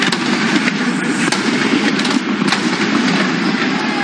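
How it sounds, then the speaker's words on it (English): Tampa Bay Buccaneers stadium cannons fire after a home win over the Carolina Panthers, with a few sharp booms cutting through a loud, steady crowd roar. "Fire the cannons proudly."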